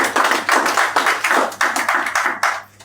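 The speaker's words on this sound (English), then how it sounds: "Let's give him a round of applause." Hands clap in a round of applause at a press conference, a brisk run of distinct, fairly close claps in uneven bursts that tapers off after under three seconds.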